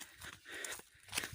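A cow moos near a river during a morning outing, a low lowing call that rises and falls over a brief stretch with faint rustling and outdoor background noise, no voices.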